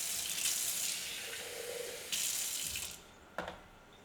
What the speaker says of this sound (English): And let's add some water.